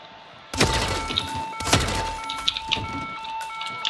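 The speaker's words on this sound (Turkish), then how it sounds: "Birileri sıkıyor bir yerden." Gunshots ring out in the stealth action game Hitman 3: a sharp report, another about a second later, then a scatter of smaller cracks and clatter trailing off.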